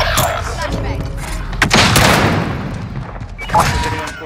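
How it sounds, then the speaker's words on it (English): A flashbang grenade bursts amid gunfire in Call of Duty: Modern Warfare: sharp, loud cracks and booming blasts with rapid shots, the main blast swelling midway and another crack following shortly after. "Throwing flashbang."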